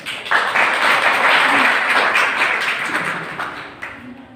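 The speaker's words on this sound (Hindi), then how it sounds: "तालियां इसलिए बजनी चाहिए" Audience applause at a poetry recitation competition, a loud burst of clapping from a crowd that holds steady for several seconds before fading out.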